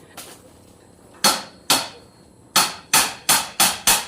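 Loud, close hammer strikes ring out, a few spaced blows followed by a quicker run of five evenly timed hits.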